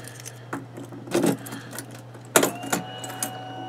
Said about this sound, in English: And I dropped the keys